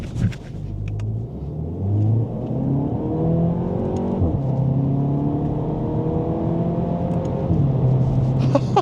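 An eighth-generation Volkswagen Golf GTI engine revs while driving, its note rising through the gears in repeated climbing sweeps, with a brief drop and pickup as it shifts, heard loud from inside the cabin under a low road rumble, without talk.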